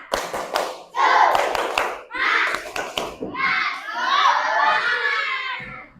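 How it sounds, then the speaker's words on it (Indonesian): Schoolchildren in a classroom performing a rhythmic spirit clap, bursts of sharp synchronized claps broken by pauses, with children's voices chanting and shouting along, ending in a loud cheer. "Tepuk semangat."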